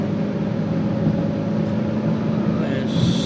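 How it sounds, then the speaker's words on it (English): Car engine revving up steadily after a shift into fourth gear while driving on the road, a continuous low drone with road noise throughout. "from the right gear into 4th, and probably hear the engine revving up a bit"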